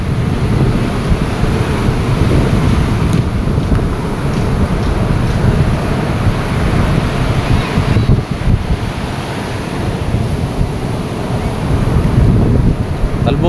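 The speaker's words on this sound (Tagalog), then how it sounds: "Talbo ka na talaga ng alon bago lalaki pa mamaya ang alon." Ocean surf crashing on a shore in strong wind, continuous loud roar of breaking waves mixed with heavy wind buffeting the microphone throughout.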